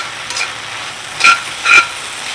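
Okra (bhindi) cooking in a pan, with a low steady sizzle under stirring, punctuated by two short, brighter scraping bursts of a spatula against the pan; no voices.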